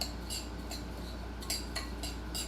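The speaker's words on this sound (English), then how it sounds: "you're just going to mix this up, and this is going to be your mix for your artichokes" Utensil scraping and clinking against a bowl while mixing a cheese seasoning mix for stuffed artichokes, several light irregular ticks over a steady low hum, close, with no speech.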